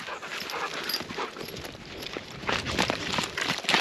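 A dog panting and moving around on a beach on the Yorke Peninsula in Australia, with soft breathing and scuffling steps over steady surf-like noise that grows louder toward the end.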